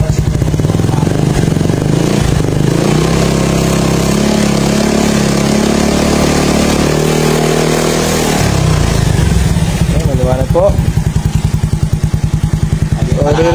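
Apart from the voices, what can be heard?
scooter engine running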